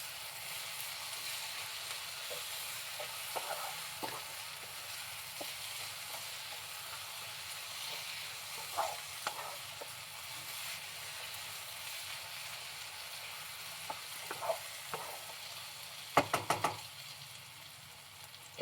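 Raw mango chitranna mixture frying in oil in a pan, with a steady soft sizzle and scattered stirring knocks, ending in a brief louder clatter.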